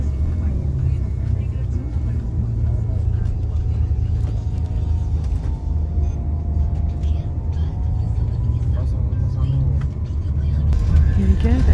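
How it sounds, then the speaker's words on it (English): Rede Expressos coach to Coimbra idling in a Portuguese bus station, a steady low engine rumble held close and loud throughout, with faint background activity. "Here's my bus, the first bus, Red Espresso to Coimbra."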